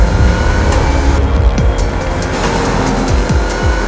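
A Range Rover SVR powers through the banked Carousel corner of the Nürburgring Nordschleife, its engine roaring loud and steady close up, with tire noise and rising pitch sweeps as it accelerates out.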